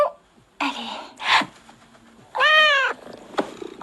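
A cat meows several times in short separate calls, close and clear, with quiet gaps and small breathy sounds between them.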